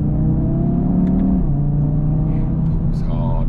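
An Audi TT RS Iconic Edition accelerates hard on a country road, heard from inside the car as a loud, rising engine rumble with a shift partway through. The pull continues steadily to the end.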